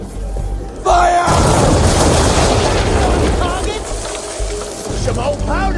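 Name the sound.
ship cannon broadside fire from the video game Assassin's Creed III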